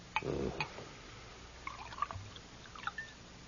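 Liquid is poured into a glass in a quiet room, with a short faint splash followed by soft dribbles and small drips that fade over a few seconds.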